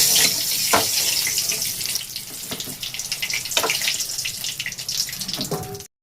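Reserved water from grinding spices is poured into a pot of mutton biryani, a continuous close splashing pour that runs steadily for several seconds before stopping abruptly.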